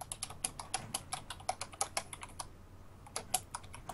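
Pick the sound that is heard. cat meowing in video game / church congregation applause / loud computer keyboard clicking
loud computer keyboard clicking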